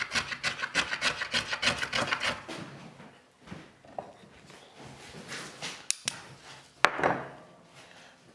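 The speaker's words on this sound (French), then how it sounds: "Avec des petits rabots comme ceci qui me permettent de venir raboter dans des zones de creux vu que la semelle est arrondie." Small curved-sole hand plane shaving wood in a hollow: a rhythmic series of quick rasping strokes up close, about a dozen in a row, then scattered lighter scrapes and a couple of sharp knocks.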